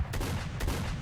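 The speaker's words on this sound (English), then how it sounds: "this is a vulnerable spot for a grenade" A grenade detonates in the S.T.A.L.K.E.R. OGSE shooter game, giving two loud, dense blasts about half a second apart over a constant low rumble.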